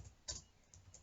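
Computer keyboard typing a terminal command on a Raspberry Pi, a few faint, sparse key clicks heard close and alone in a quiet room.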